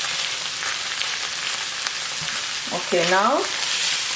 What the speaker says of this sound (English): to this butter I'm gonna add the flour and then mix quickly